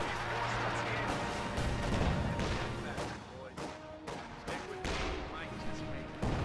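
An artillery barrage from a Priest self-propelled gun in Company of Heroes, a series of heavy thudding blasts and crashing impacts at irregular intervals, close and loud, with a commentator speaking over the explosions.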